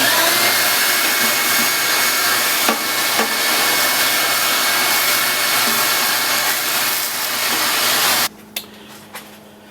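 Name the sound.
stainless steel wet dry vacuum cleaning coffee roaster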